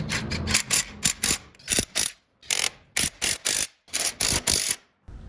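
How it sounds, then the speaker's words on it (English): A socket wrench with a 12mm wobble socket and long extension ratchets in short, sharp bursts while tightening engine mount bolts on a 22RE engine, with loud close clicking separated by brief silences. "now we're going to use a 12mm wobble socket and a long extension and come in through the passenger wheel well and zap them down"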